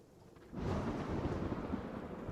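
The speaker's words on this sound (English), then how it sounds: "As the rain hits even harder and the storms come along." Thunder and heavy rain come in as a storm effect: a quiet start, then a sudden swell into a dense, loud roar of downpour and rolling rumble that stays steady to the end.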